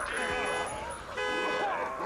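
A video game alarm blares in two long wailing bursts with a short gap between, loud and close under intermittent talk.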